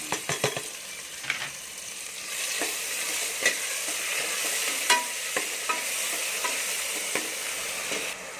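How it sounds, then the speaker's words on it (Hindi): Garlic, ginger and green chili paste frying in a pan for black chickpea curry, a steady close sizzle broken by repeated scraping stirs and light utensil clicks, with no talk. "लहसुन अदरक का पेस्ट हमारा अच्छी तरह भुन चुका है"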